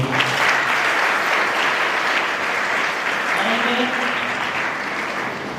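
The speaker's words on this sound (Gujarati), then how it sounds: "વસંતભાઈ માટે આપણે એકવાર જોરદાર તાળીઓ" Loud, sustained applause from a school festival audience celebrating girls' education and school admission, a dense steady clapping that fills the whole stretch and fades slightly toward the end.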